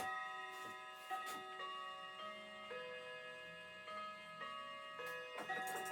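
A clock ticks steadily in a quiet, even rhythm, its soft clicks repeating beneath sustained tonal background music, with no one speaking.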